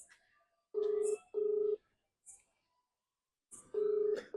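Ringback tone of a phone call placed to a brother: steady electronic pulses, two close together, a gap, then another, clear and near, with faint background sounds between.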